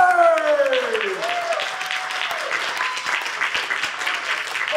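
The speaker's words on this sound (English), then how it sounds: "A round of applause to you," Applause from a convention audience at a live anime voice-actor reading, a dense, steady wash of clapping lasting throughout, with a gliding tonal sound fading early on and some voices mixed in.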